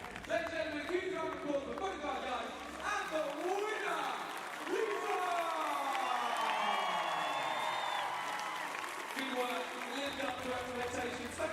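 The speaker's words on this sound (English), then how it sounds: "huge round of applause for both our guys and the winner, Lisa!" Crowd at a women's wheelchair basketball game at the London 2012 Paralympics applauds and cheers in a sustained swell, with voices and shouts mixed through the noise.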